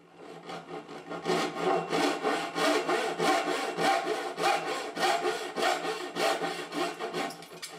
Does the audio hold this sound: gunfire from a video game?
no